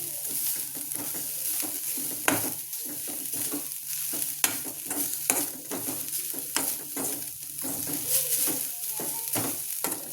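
Grated coconut roasts in a pan for a breadfruit curry, stirred with a spoon, making repeated scraping strokes over a soft, continuous sizzle, close and without voices.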